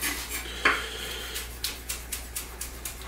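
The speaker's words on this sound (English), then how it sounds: "Chop these up nice and fine." A small knife chops potatoes finely on a board, giving one sharp knock followed by a quick, even series of light taps, close and fairly quiet.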